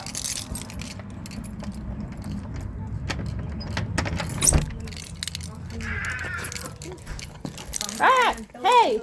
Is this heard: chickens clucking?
no